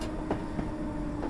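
London Underground trains run in the Train Simulator game, with a quiet rolling rumble and a few soft rhythmic wheel clicks over the rails.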